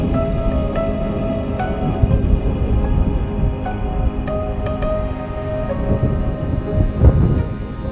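Thunderstorm with low thunder rumbling steadily beneath a constant noisy background, with a few sharp crackles and swells in loudness but no clear single crack.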